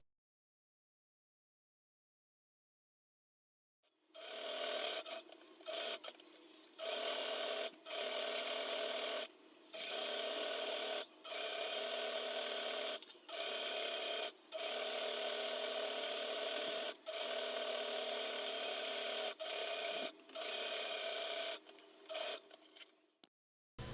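Sewing machine stitching a strap for a double tote bag, its motor running in a loud, steady buzzing drone that starts after a few seconds of silence and breaks off briefly several times between runs of stitching.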